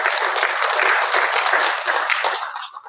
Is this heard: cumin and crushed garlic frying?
no